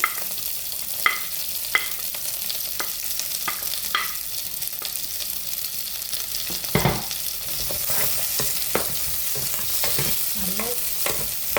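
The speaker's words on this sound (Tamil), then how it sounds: "கடுகு சீரகம் வதங்கிட்டு இப்போ நாங்கள் வெங்காயத்தை போடுவோம். வெங்காயம், கருவேப்பிலை," Sliced onions and curry leaves crackle in hot oil with mustard seeds and cumin, a continuous sizzle broken by repeated spoon scrapes and stirring knocks, no one talking.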